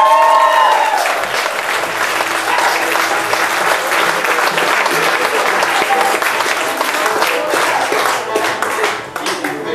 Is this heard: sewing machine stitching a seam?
no